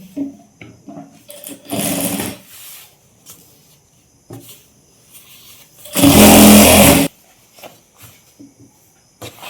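A sewing machine stitches salwar fabric in two loud whirring bursts, a short one and then a longer run, with quiet handling clicks and rustles between.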